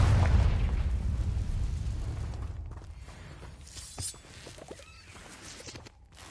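A fiery Confringo spell explosion in Hogwarts Legacy opens with a loud, deep blast whose rumble slowly fades, followed by scattered crackling debris, shattering and magical spell effects.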